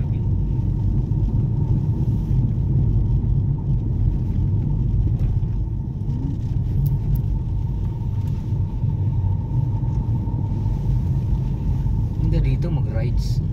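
A motorcycle engine drones with a steady low rumble while riding along roads around Laurel, Batangas near Taal, alongside wind noise and a constant even tone, with a voice speaking briefly near the end.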